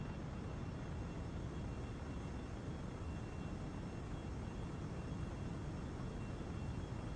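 An aircraft flying very fast in Kerbal Space Program, a steady, dense, faint roaring rush of engine and air noise that holds even throughout with no talk.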